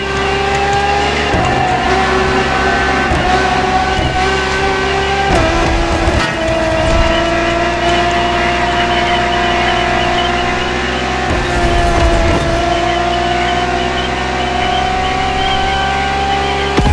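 A Ferrari V12 supercar roars in The Crew Motorfest, its engine droning loud and close with rising and falling revs, two brief gear-shift dips and faint tyre squeal.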